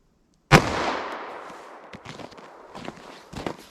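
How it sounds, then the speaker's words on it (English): A 10mm pistol fires a 200-grain truncated-cone round into a fleece bullet backstop: one sharp, loud report with a long echoing decay, followed by faint scuffs and small knocks. "So I'll do just 2 shots of each cartridge and go take a look."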